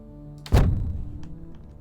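A single heavy, muffled thump of a gunshot fires in the video game Heat Signature, followed by a short low rumble and faint clicks against a quiet humming background.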